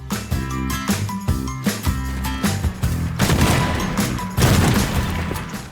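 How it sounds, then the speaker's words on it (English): Shotgun blasts in the destruction game Teardown boom in quick bursts, close and loud, with crashing and smashing debris in between as a mall is torn apart. "We have a freaking shotgun."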